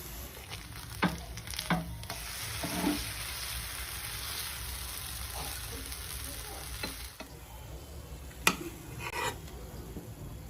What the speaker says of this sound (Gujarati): આવી રીતના આપણે બંને સાઈડ શેકી લઈશું સરસ રીતે